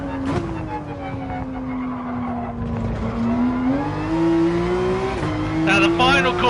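A race car in Gran Turismo Sport at Spa revs hard in first gear out of a chicane, with the engine note climbing steadily and tyres squealing near the end, loud and continuous.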